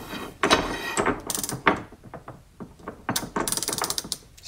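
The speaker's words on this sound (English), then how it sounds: "let's go ahead and do some test pulls on our Craftsman. Now this is a 36 tooth ratcheting mechanism." A Craftsman 36-tooth ratchet clicks loudly and close up during test pulls, with quick bursts of pawl clicks in uneven groups and short pauses between the strokes.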